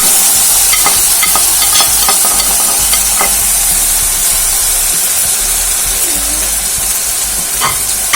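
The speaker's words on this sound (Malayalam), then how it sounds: "ഇഞ്ചിയും പച്ചമുളകും നന്നായിട്ടൊന്ന് വറുത്തെടുക്കാം" Steady loud sizzling of ginger and green chilies frying in hot oil, with occasional stirring scrapes throughout and no talking.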